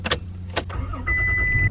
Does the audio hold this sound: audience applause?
no